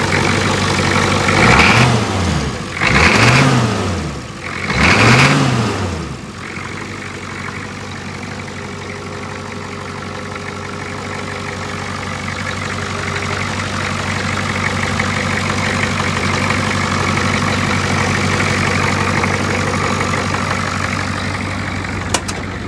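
A Ford 6.9/7.3 diesel truck engine cranks and fires, with several rhythmic revving swells early on, then settles into a steady, smooth, loud idle that continues close by with no talk.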